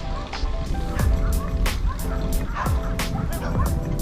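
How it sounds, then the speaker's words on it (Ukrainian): Dogs barking in the distance beside a river trail on a cycling route, several sharp barks repeating irregularly, some sounding farther off than others, over a steady outdoor background. "там щось собаки якісь гавкають"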